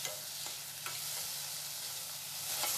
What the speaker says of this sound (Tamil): எல்லாம் மிக்ஸ் நல்லாவே மிக்ஸ் பண்ணிக்கோங்க.